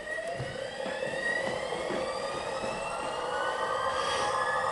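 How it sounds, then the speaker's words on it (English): A Hosemaster turbo filter switched on and spooling up, giving a loud, steady mechanical whine whose rising tones climb in pitch, with a broadband rushing roar beneath and no talk. "I'm going to hit the switch on the turbo filter. You get to hear it's a little bit of a noisy thing."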